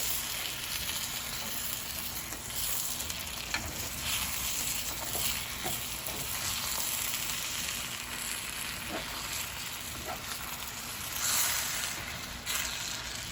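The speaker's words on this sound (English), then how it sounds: "while I'm mixing my cheese in, I'm going to turn off my heat" Hamburger casserole in a cast iron skillet sizzles softly and steadily while cheese is stirred in, with faint scrapes and light clinks from the utensil over the continuous hiss.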